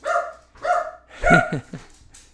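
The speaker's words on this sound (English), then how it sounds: "My dog's going crazy because, like, my wife, they just came home." A small wiener dog barks excitedly in a home, three or four sharp, high yapping barks in quick bursts, close and loud, with short gaps between them.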